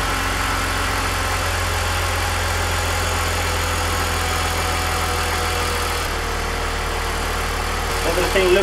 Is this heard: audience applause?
no